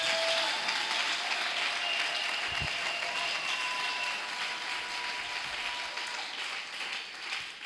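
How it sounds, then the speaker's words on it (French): An audience claps steadily at a church gathering, with dense, sustained applause that fades slightly toward the end. "Alors acclamons cette fois-ci."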